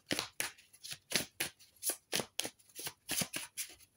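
Tarot cards being shuffled, a quick series of crisp, close riffling bursts in a fairly regular rhythm, quiet and with no talking.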